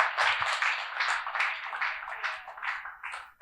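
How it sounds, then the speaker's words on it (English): A conference audience gives dense, sustained applause after paper presentations, many hands clapping together in a steady wash that swells and eases slightly over a few seconds and fills the room. "let us give them a round of applause"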